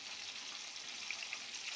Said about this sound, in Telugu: ములక్కాయ ముక్కలు ఇలా దోరగా వేగిపోయాయండి